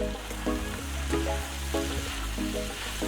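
Vegetables and cooked quinoa sizzle steadily in a frying pan while being stirred, a close, continuous crackle with soft rhythmic scraping and clinks from the spoon.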